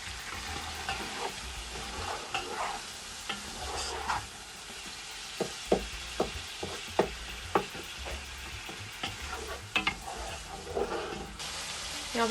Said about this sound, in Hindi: अब इसको अच्छे से हम भून लेंगे।